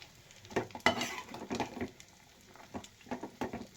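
Masala spices roast in a pan while a spoon stirs them, producing close rhythmic scraping strokes over a gentle sizzle, with brief clinks against the pan and no voices.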